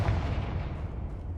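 A Confringo fire spell in the Hogwarts Legacy video game: a single dense, rumbling blast that fills the short moment and fades slightly, loud and close, with no voices over it.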